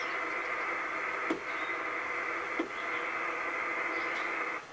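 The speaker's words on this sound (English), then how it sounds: "So I'll turn this squelch down and we'll see if anybody's talking." A CB two-way radio with the squelch turned down gives off a steady, hissing band of static, with faint clicks and pops breaking through now and then, no voices on the channel.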